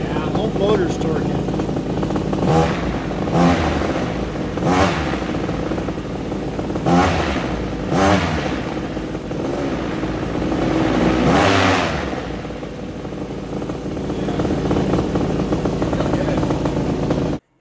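An engine fitted with a Tornado 280 revs up and down repeatedly, with several loud surges and a rough, clattering note close by.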